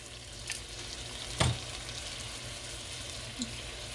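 Onions fry over medium-high heat in a pan, a steady low sizzle with a couple of brief utensil knocks and one sharp clatter.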